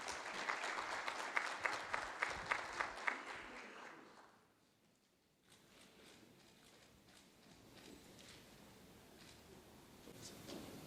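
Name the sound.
audience applause for the minister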